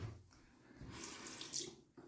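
Tap water running into a sink while shaving soap is lathered, a soft steady hiss that swells and eases over two seconds, quiet and close with no talking.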